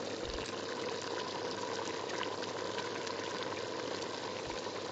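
Three cups of hot water pour steadily into a pot of simmering beef karahi in a kitchen, a continuous even rushing wash with no pauses and no voices.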